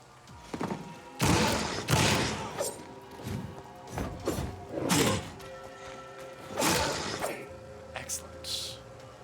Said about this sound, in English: Human explosion.